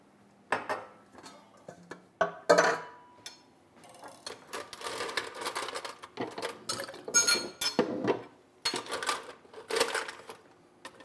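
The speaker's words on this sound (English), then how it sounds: "Now we're gonna add some ice and give it a quick stir." Ice clinks and rattles against a glass as an old fashioned cocktail is stirred, a steady run of bright, close clinking taps over about ten seconds with no talking.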